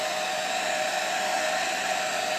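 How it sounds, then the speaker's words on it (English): A hair dryer blows steadily on a large abstract pour painting of glue and silicone, a constant close whooshing hum with a fixed tone, unbroken for a few seconds. "We're going to take our hair dryer, and we're just going to see what we get."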